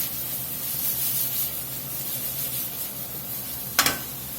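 Onions and carrots browning in a Dutch oven give a steady, soft sizzle throughout, close by, ending with a sharp clink of a utensil against the pot.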